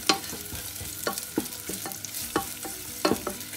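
Red onions sizzle in a pan while a utensil stirs them, giving repeated distinct scraping clacks roughly every half second over a continuous close frying hiss, no speech.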